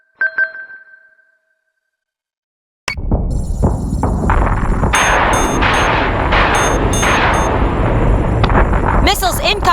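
Incoming missiles in the space strategy game Battlestar Galactica Deadlock arrive as a loud, sustained barrage of booming impacts and metallic pings after a brief alert tone and a pause of silence.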